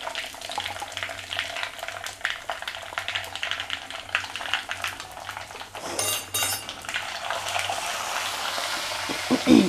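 Mustard seeds and asafoetida crackle and sizzle in hot oil for an onion pickle, a steady frying hiss with faint clinks of a pan and spoon throughout, growing slightly louder near the end.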